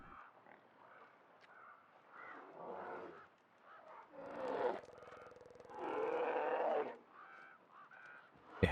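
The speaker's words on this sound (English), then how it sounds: "You hear the crows? That was the bear crows." A bear in The Long Dark video game gives off crow-like calls in the foggy wilderness, a series of raspy, honking caws in separate bursts of varying length, moderately loud against a quiet background.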